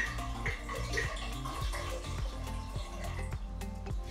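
About two litres of water are poured steadily into a large cooking pot for beet borscht, a continuous splashing trickle with faint rhythmic gurgles, close and moderately loud.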